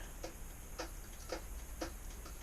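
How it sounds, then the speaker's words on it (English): Faint, regular metallic ticks, about two per second, over a steady low hum, from the engine of a 2021 Subaru Forester Sport as its cold metal expands after slight heating. "the sounds you're hearing are cold metal expanding because it was just heated up slightly"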